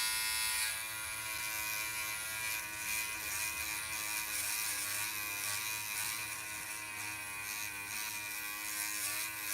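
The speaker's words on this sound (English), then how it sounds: "Using the little sander right here." A small hand-held sander cuts down a part for a custom Corvair dashboard, giving a steady high-pitched electric whine with a rough buzzing texture that holds continuously throughout, loud and close.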